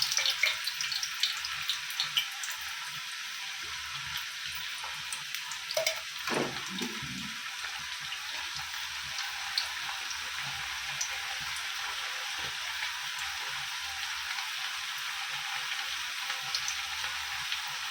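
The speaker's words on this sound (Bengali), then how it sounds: "লঙ্কা ফোড়ন দিয়ে দিচ্ছি" Chilies are tempered in hot oil on a kitchen stove, giving a steady, fairly faint sizzle and crackle that runs on without any talk.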